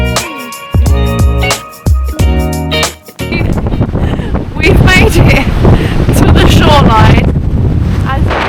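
Strong, cold wind at Torres del Paine in Patagonia roars and buffets against the microphone in loud, continuous gusts, following a few seconds of clear tonal sound at the start.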